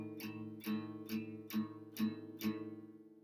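An acoustic guitar strums an augmented chord across the four middle strings six times in an even, unhurried rhythm, each strum ringing and decaying, close and alone.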